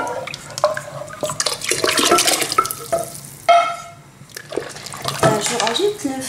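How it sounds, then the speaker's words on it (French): Diluted tomato with tomato paste pours into a cooking pot, a close liquid splash and glug lasting several seconds with a brief pause, while someone talks over it. "Dans la marmite, je vais rajouter la tomate diluée avec la tomate"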